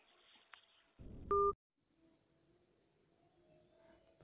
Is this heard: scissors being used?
no